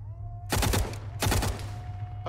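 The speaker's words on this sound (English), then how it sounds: "The guy opened fire on the turret." Gunfire in the video game Arma 3, set in Western Sahara, with two short bursts of rapid shots over a steady low engine hum, loud and close.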